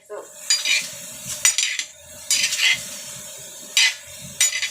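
Sliced bitter gourd sautéed in a pan, heard as repeated bursts of a utensil scraping and clinking against the pan between short pauses, with a faint sizzle underneath, close by and without speech.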